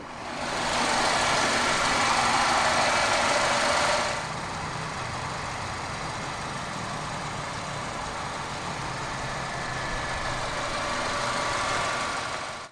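The turbocharged 1.8 litre inline-4 of a 2012 Mercedes-Benz SLK 200 AMG Sport runs with a steady, fairly quiet hum, starting with a brighter whooshing surge that settles after about four seconds into an even drone.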